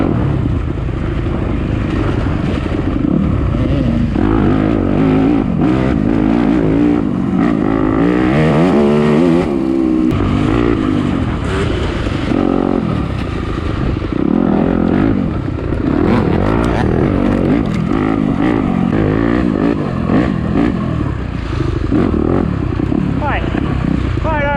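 Yamaha YZ250F dirt bike engine at a harescramble race on rough terrain, loud and continuous, revving and dropping through gears throughout, with a rider's voice talking over the engine noise.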